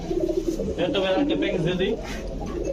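Pigeons at a pigeon market give soft, repeated throaty coos at close range, with people talking in the background.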